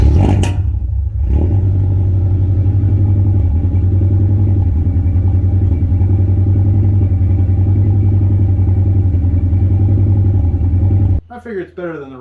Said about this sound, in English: The truck does have kind of a rumble to it.